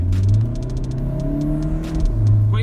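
A Volkswagen Golf GTD Mk7 diesel with a Stage 2 tune to 240 hp revs sharply on a downshift, its deep engine drone rising and falling in pitch with a blip near the end, loud and close, with no talk.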